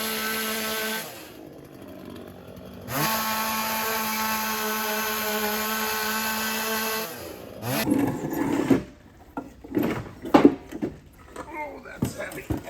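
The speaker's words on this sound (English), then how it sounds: "altered the pallet with a chainsaw" A chainsaw cuts into a wooden pallet up close, a loud sustained whine that drops out briefly and returns for several seconds, followed by clattering and knocking of wood being handled.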